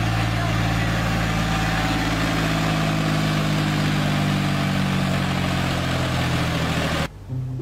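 A red tractor's engine runs at a steady idle nearby, an even mid-to-low drone that holds constant before cutting off abruptly near the end.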